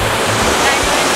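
Water of a fountain in Rome, heard up close as a steady loud rushing splash, a constant broadband wash without pause.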